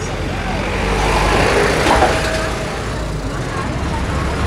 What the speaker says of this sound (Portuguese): Deixa esse caminhão passar.